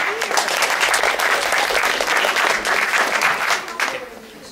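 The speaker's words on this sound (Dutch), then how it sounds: "Grote applaus voor je." An audience at a school literary café applauds as a student speaker comes forward, steady crowded clapping for about four seconds before it thins out at the end.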